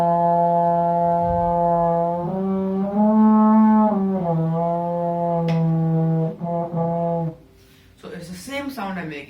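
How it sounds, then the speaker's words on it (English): A French horn played by buzzing the lips through the mouthpiece gives a sustained, resonant brass tone with steady harmonics, shifting pitch a few times before a brief pause and a short, breathier note at the end. "when you allow that to resonate inside the entire French horn"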